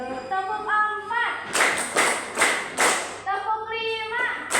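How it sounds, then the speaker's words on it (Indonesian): Sharp hand claps ring out in a short counted series, loud and close, between stretches of a speaking voice. "Tepuk 1, tepuk 2, tepuk 3, tepuk nyoba dulu"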